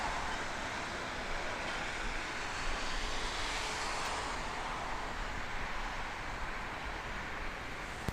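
An Air Canada Airbus A330-300 jet at Toronto Pearson airport gives a steady, fairly distant engine roar that holds at an even level without a break.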